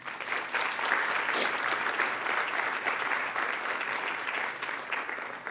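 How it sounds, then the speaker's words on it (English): At a Martin Luther King Jr. Day celebration at Sacred Heart University, a crowd gives a sustained round of applause, a thick, even rush of clapping that holds steady for several seconds. "So let's give the entire team a round of applause for their work."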